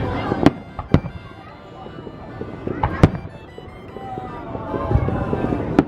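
Fourth of July fireworks burst outdoors in a few sharp, distant pops and cracks at irregular intervals over wind and crowd murmur.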